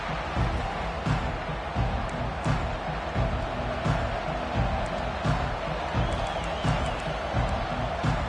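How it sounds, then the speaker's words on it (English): A stadium crowd roars and cheers continuously in the college football video game NCAA 25, with a dense wash of noise and occasional louder swells and thumps throughout. "This crowd bringing the energy and noise early."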